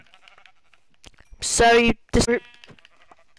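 Sheep in Minecraft bleat in two loud, close, wavering calls, one longer and then a shorter one, with a person talking quietly around them.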